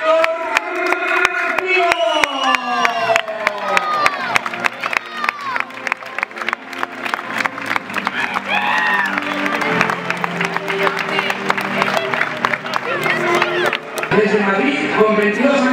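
An audience at a CD Castellón player presentation claps and cheers steadily and loudly for the whole stretch, with voices shouting over the applause.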